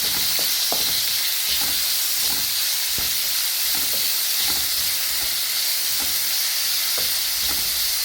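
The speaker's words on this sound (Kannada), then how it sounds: "ಸ್ವಲ್ಪ ಎಣ್ಣೆ ಬಿಸಿ ಆಯಿತು. ಅದನ್ನೆಲ್ಲ ಹಾಕ್ಬಿಟ್ಟು ಫ್ರೈ ಮಾಡುವ." Ingredients for sandwich idli fry in a few spoonfuls of hot oil in a pan, making a constant bright sizzling hiss broken by regular soft stirring taps.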